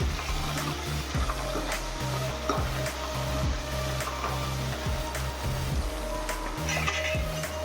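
A drumstick vegetable curry is stirred and mixed in a pan over a low gas flame, producing a steady sizzle with repeated rhythmic scrapes of a spoon against the metal. The sound stays close and moderately loud with no talking.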